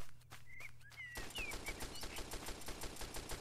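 Robots in XERA Survival firing on the player: a rapid, even machine-gun stream of shots that starts abruptly about a second in and keeps rattling steadily at close range, without talk.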